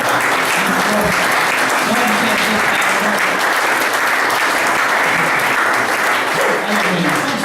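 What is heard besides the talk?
church congregation applause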